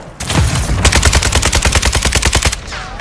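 Rapid automatic gunfire in Modern Warfare 2 Hardpoint on Crown Raceway with the Kastov 762, a loud, close burst of evenly spaced shots lasting about two seconds, then a fading tail.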